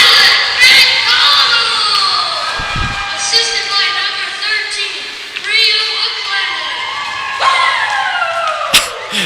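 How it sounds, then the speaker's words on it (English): A hometown crowd at a U18 AA youth hockey game roars and cheers loudly, with shouts and whistles and the occasional thud of boards or glass, sustained for several seconds. "you love to hear it, the hometown crowd going crazy"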